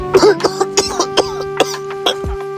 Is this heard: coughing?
yes